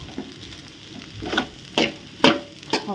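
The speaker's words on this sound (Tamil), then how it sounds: "இந்த மாதிரி எல்லா இடமும் சேமியா படுற மாதிரி மிக்ஸ் பண்ணிக்கலாம்" Vermicelli tossed with vegetables in a pan for an egg semiya kothu, a few scraping stirs sounding at irregular intervals over a faint background sizzle, close and fairly quiet.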